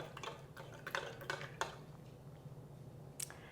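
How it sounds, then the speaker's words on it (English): A spoon stirs yeast, sugar and flour together in a bowl, giving a few light scattered clinks and scrapes against the bowl at moderate distance, with no talking. "I'm just going to mix it all up."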